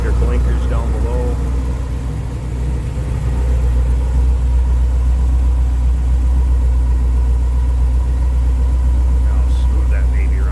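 A 1928 Ford Model A Roadster street rod idles close by with a smooth, steady low rumble that holds throughout, and someone talks over it.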